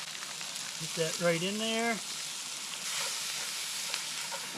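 Bear meat sizzling in a Dutch oven over a wood fire at a backcountry camp in Idaho, a steady frying hiss under a short spoken remark.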